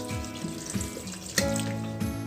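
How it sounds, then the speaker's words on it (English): Water pours from a tap into a rice cooker pot holding chicken, mushrooms and vegetables, a steady close splashing stream that runs alone for a couple of seconds with small surges. "Just go add a little bit more water."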